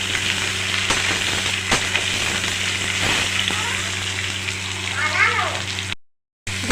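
Potato pieces fry with turmeric and salt in hot oil, a loud, continuous close sizzle with occasional stirring scrapes, broken by a brief silent gap near the end.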